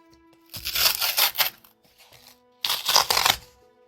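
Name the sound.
ripping open paper mail packaging by hand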